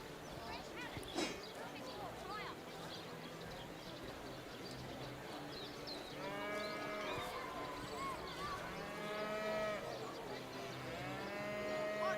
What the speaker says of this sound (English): That's a noisy cow.